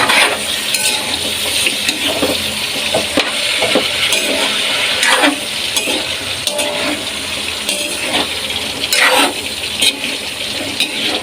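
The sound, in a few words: green beans and carrots sautéed and stirred in pan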